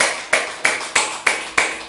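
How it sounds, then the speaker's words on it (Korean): A church congregation claps together in a steady, even rhythm, about three claps per second. The claps are loud and crisp, with no talking over them. "하나님께 감사의 박수 드리겠습니다."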